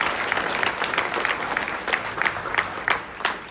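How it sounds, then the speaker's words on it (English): An audience at a school band concert applauds for the band students, a dense patter of clapping with a few louder claps standing out, steady and moderately loud throughout. "Let's give one more round of applause for these band students up here and Mr. Willis."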